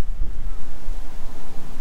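Strong wind blowing on an open stretch of the Western Australian coast, buffeting the microphone with a continuous low rumble for a couple of seconds.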